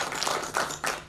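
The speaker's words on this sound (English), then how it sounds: "Let's clap for them," Audience applause for a team at a banking quiz competition semi-final, a dense burst of clapping that stays loud and continuous for about a second.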